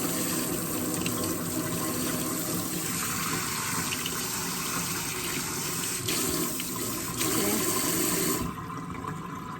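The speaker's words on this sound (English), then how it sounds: "this shower right here, DeAndre, this thing is like spraying all in" Steady hiss of a shower spraying water, broad and continuous at close range, with a brief shift in tone near the end.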